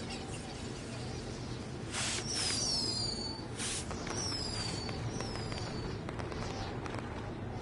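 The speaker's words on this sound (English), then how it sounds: "either way, we'll get to see some cool fireworks" Fireworks in the video game WWE 2K20: a few whistling rockets streak upward followed by bursts of crackling, heard over a continuous noisy game background.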